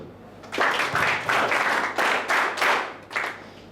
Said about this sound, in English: Just clap yourself.